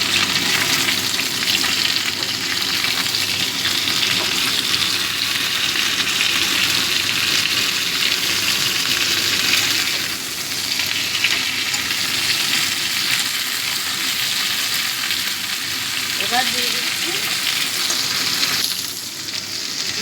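Tomato stirred into a potato and cauliflower curry frying in a pan, a loud, close, steady hiss of frying with occasional spoon scrapes, no voices.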